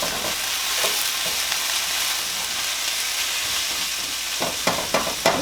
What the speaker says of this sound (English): I want to mix the seasoning in